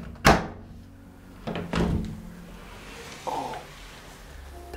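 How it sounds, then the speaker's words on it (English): Old door in an abandoned French house thunking and scraping as it is forced open, two heavier knocks followed by a fainter creak, with no talk. "Over here is another door."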